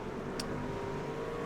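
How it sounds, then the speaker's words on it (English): Race cars in the iRacing simulation game firing off the start, a steady engine drone with a faint rising roar at moderate loudness and a brief sharp click near the beginning. "These cars are firing off the start there."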